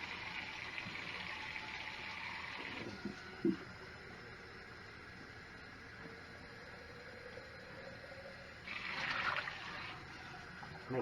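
Cold tap water pours steadily over blanched tomatoes, with a short splash partway through and a louder gush toward the end.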